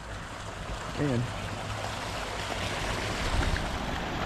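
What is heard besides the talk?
water rushing beneath a trail bridge at a marsh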